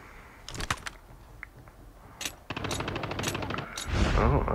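Gunfire in a Call of Duty battle royale game: a few sharp shots early, then rapid automatic bursts in the second half, fairly close, ending in a louder muffled blast.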